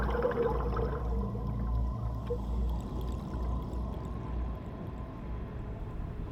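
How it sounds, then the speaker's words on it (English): Steady bubbling and gurgling from a thermal spring beneath the sea off a reef near Green Island, a continuous low watery churn that stays fairly even and alone throughout. "this underwater thermal spring never stops bubbling"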